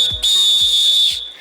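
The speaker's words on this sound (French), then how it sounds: "On siffle la fin d'un match de football." A referee's whistle shrills in one sustained, loud blast lasting about a second, with a few low thumps underneath.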